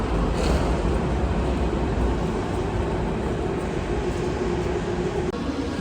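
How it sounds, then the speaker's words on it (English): A passenger train, the ES452 from Prague to Brussels, rolls into a station in Germany with a loud steady rumble and rail roar that holds for several seconds, with no talking. "That's the train I want, 10:56."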